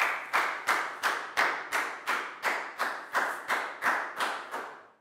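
Year 4 children in a maths classroom clap in unison, about a dozen sharp, evenly spaced group claps in a steady rhythm, close and clear with no talking.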